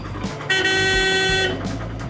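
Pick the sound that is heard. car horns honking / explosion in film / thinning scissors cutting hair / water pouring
car horns honking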